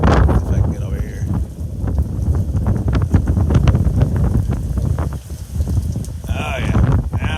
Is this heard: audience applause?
no